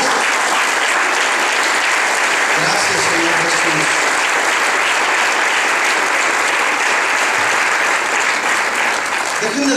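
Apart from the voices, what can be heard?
loud applause of praise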